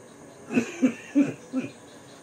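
Four rough coughs in quick succession, close and moderately loud, spaced unevenly over about a second and a half against a faint background hiss.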